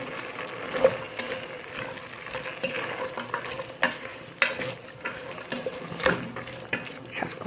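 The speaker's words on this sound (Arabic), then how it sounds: "طبعا غادي نحرك هاد المقادير يتقلاو شي شويه" Ingredients for Moroccan white beans are stirred in a cocotte pot on a gas burner, giving a soft sizzle with repeated scraping and clinking strokes from the spoon, close and moderately loud, with no talk.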